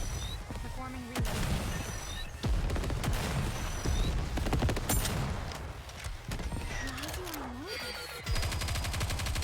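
Gunfire in the video game Nikke: Goddess of Victory, sharp rapid bursts of shots and fusillades, loud and close, layered with game music, effects and voice lines.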